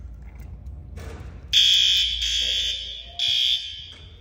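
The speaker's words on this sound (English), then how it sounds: "Won't it alarm if I open it?" An elementary school fire alarm sounds loudly and close after a pull station is opened, a harsh high electronic buzz in repeated long bursts with brief gaps, following handling noise.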